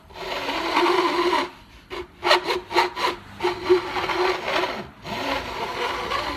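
Repeated rasping strokes of a file on guitar fret ends, a steady scraping run then a series of short, rhythmic passes with light pressure, close and moderately loud.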